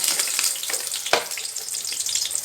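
Oil heats in a casserole pot on the stove, giving a steady crackling sizzle with scattered pops and one sharper spatter, close and continuous throughout.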